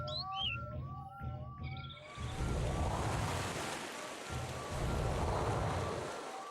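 Several short, bright bird chirps in the Doshin the Giant video game ring out clearly for about two seconds, then sink beneath a loud, steady wash of surf-like water noise.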